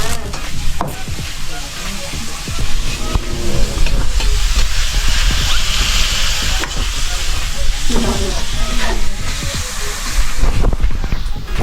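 Tomato sauce for spaghetti is stir-fried in a pan, with a loud continuous sizzle and hiss and the repeated scrape of stirring. It carries on steadily, close up, for about twelve seconds.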